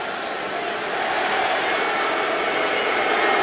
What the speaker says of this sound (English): A little booing by the Boise section